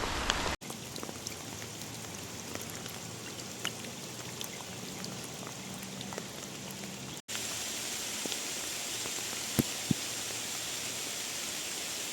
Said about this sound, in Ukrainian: І знову почався град.